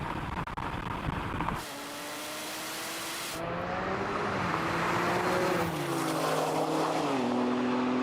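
Porsche cars race and overtake, an electric Taycan Turbo GT against a petrol 911 Turbo S: continuous loud engine and motor roar with rising and shifting tones as speed changes, heard close without talk.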